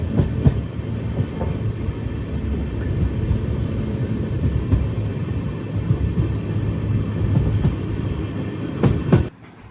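An Amrit Bharat Express train rolls steadily with a loud, continuous low rumble and wheel clatter near a rail yard, then the noise cuts off abruptly as it comes to a stop.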